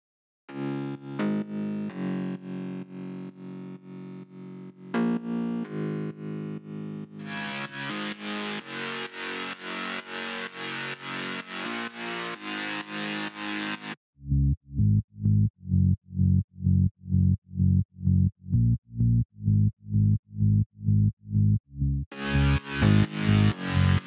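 Progressive house synth bass layers made in FL Studio play in turn: two buzzy mid-range basses in rhythmic patterns, then a deep, pulsing sub bass, and finally the layers together.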